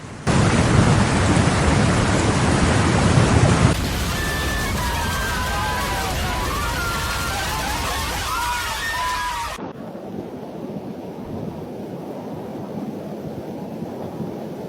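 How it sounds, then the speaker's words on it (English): Torrential rain from a thunderstorm during flash floods in Beijing pours down as a dense, loud roar with rumbling, shifting to a thinner steady downpour partway through. "with torrential rain forecast to intensify rather than abate"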